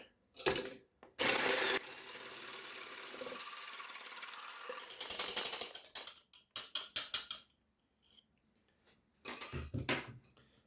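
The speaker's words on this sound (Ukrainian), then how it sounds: "І зараз збиваємо їх добряче." Egg yolks being beaten until foamy for Easter icing with an electric mixer, a buzzing whir in several bursts, one long steady run and shorter stuttering pulses separated by pauses.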